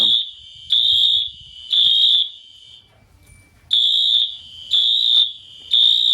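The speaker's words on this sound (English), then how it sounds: "I like that alarm." Fire alarm sounding during a system test, giving loud, shrill electronic tones in repeated bursts of about a second with short gaps and one longer pause midway, close and piercing over faint background.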